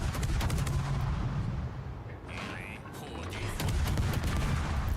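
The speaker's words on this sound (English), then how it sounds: "Hey, torpedo hit." A torpedo strikes a ship in a naval battle video game, a dense, rumbling barrage of explosions and booming gunfire that briefly dips before surging again, loud and continuous.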